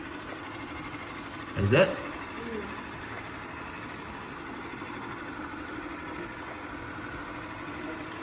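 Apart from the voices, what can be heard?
Shark Matrix AV2310AE robot vacuum running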